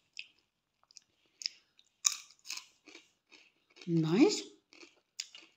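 A baby chews small bites of soft food in quiet clicks and smacks scattered across the moment, with a short vocal sound mid-way and an adult speaking briefly.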